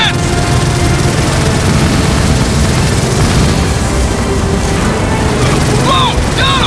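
Loud, roaring engine noise from the flying Vulture creature in the video game Gears of War 4 fills the scene with a continuous heavy rumble, joined by game effects and shouted speech near the end.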